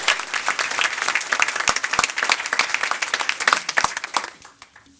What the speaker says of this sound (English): Let's give one more round of applause for all 4 students